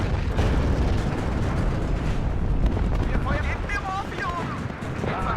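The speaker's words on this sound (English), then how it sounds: "the artillery is messing me up big time." Artillery shells exploding in the WARNO wargame, a dense, continuous roar of blasts and rumbling impacts filling the whole stretch, loud and close, with a voice talking over it.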